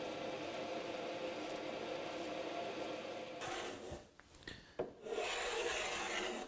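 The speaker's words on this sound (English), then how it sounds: "I'm just adding a little bit of detail to the bottom of the lower deck by making a chamfer with my block plane" A hand block plane cutting a chamfer along the bottom edge of a wooden serving trolley deck, steady rasping strokes followed by a few quieter, uneven passes near the bench.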